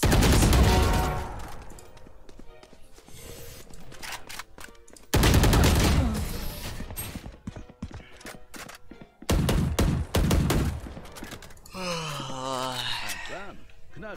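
Fortnite gunfire crackles in loud bursts of rapid shots, with quieter gaps between them, a few single thuds and a whooshing swirl near the end. No one speaks.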